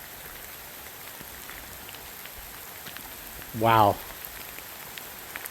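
Heavy rain falls at a Florida campsite as a steady, even hiss that holds throughout, with a brief spoken exclamation near the middle.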